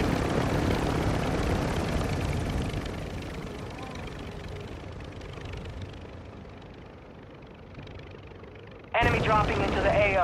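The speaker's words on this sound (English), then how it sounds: "I'm getting run down by a helicopter" A helicopter in a battle royale video game roars past with heavy, rumbling rotor and engine noise that slowly fades, before a sudden burst of other game sound at the end.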